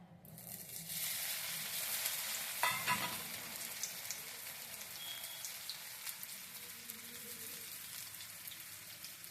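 Kothimbir vadi frying in hot oil, a steady hiss and crackle of sizzling that stays fairly faint and constant throughout, with no voices.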